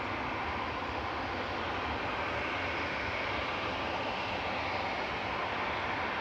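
A Qatar Airways Boeing 787-9 rolls out at Manchester Airport, a steady broadband jet roar heard from a distance. It is moderately faint and continuous, with no voices.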